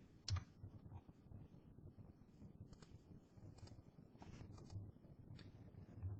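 Quiet, scattered key clicks come from someone typing data on a PC keyboard, irregular light taps over a faint background with a few sharper presses.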